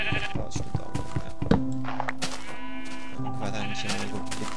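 Sheep bleating in Minecraft, a few wavering blocky bleats rising above a busy game soundscape with other effects and background noise.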